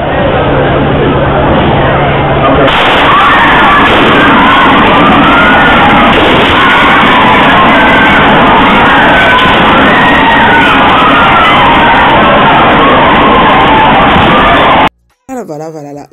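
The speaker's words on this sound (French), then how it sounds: "ça se voit clairement qu'il y a la panique à l'église du pasteur Patrice Ngoï Moussoko. Il y a vraiment de la panique, les gens ont paniqué, les gens ont pleuré" Panicking crowd inside a church, a loud dense wash of shouting, crying and overlapping voices that rises sharply early on and stays intense before cutting off near the end.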